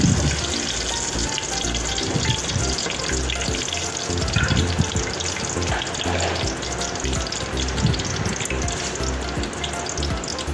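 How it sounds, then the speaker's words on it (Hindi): Whole spices, including cardamom, black peppercorns and a curry leaf, fry in a pot of hot oil with a continuous close crackling sizzle, dotted with small pops and stirring sounds. "इसको थोड़ा सा भूनेंगे।"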